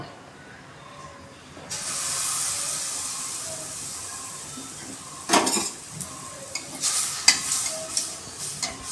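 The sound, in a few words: mango malpua batter frying in hot kadai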